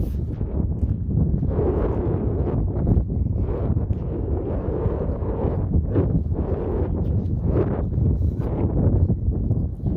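Strong wind gusting on a gravelly footpath beside open fields in Sutton Bridge, heard as a constant low rumbling buffet against the microphone with surging gusts.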